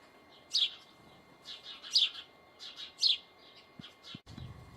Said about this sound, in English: You can hear the birds. We hear nothing but birds here.